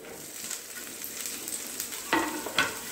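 Onion and capsicum fry in a pan for a quick paneer sabzi, giving a steady soft sizzle throughout, with two sharper scraping stir clatters near the end and no voices.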